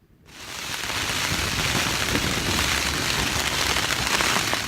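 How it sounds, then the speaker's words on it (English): Heavy rain from a thunderstorm begins abruptly and pours down in a dense, steady roar, close and loud, hammering on a surface without letup. "It's raining a lot, and there's thunder and lightning"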